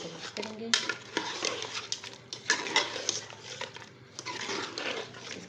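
A spoon scrapes and clinks through meat with dry spices in a cooking pot, near and busy, with irregular stirring strokes and metallic taps over about five seconds.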